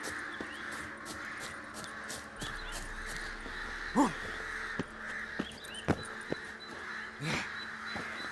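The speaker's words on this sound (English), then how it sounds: "All I gotta do is follow the cawing." Crows caw repeatedly in The Witcher 3 video game, several harsh calls near and far over an ambient outdoor game soundscape with light background noise.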